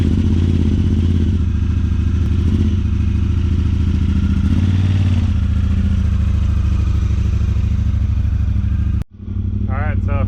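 A Honda Talon side-by-side runs at a steady, rumbling idle close by, then drops away abruptly near the end as the machine moves off.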